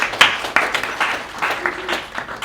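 An audience applauds at a Good Design Awards highlights event, steady clapping over about two and a half seconds with a sharper burst near the start and a few voices mixed in.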